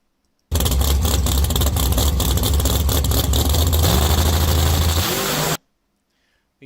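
A nitrous-fed hot rod engine roars at full, loud revs for about five seconds, then drops off abruptly into silence.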